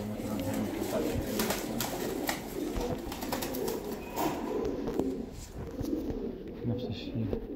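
Afghan pigeons coo in soft, repeated low calls close by, with someone talking over them throughout.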